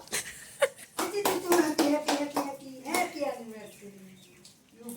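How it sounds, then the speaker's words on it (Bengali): Hands clapping at an anniversary cake cutting, a burst of claps running through the middle of the clip with people, including a child, talking over and around them. "সবাই হাততালি দাও।"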